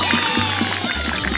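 Water pouring onto trees in a LEGO-themed animated game, a short steady stream with a liquid gurgle that stays loud and close, alone.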